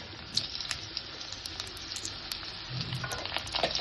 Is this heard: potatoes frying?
yes